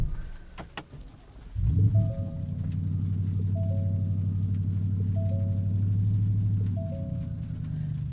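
A 2023 Ford F-150 Raptor R with its 5.2 liter engine cranks and fires on a sleeting day, rising to a loud rumbling idle that holds steady, with a faint chime sounding repeatedly inside the cab.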